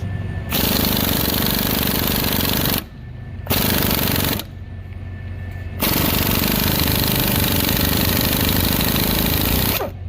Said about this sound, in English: We got the Capri flex head 1/2-inch impact.